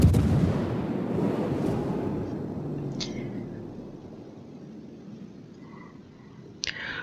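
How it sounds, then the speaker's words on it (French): A French warship in World of Warships fires long-range artillery: a heavy booming blast opens, then rumbling decays into the distance, with a couple of sharper distant reports following. "autant profiter de cette artillerie à longue portée et à tirer au maximum"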